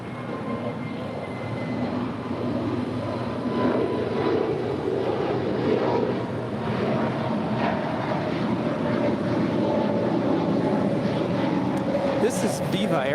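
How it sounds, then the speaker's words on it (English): A Viva Aerobus Airbus A320neo departing LAX, a sustained loud engine roar that holds steady throughout, heard from a distance with speech over it. "This is Viva Aerobus, flight 623, departing to Monterrey. It's an A320 Neo."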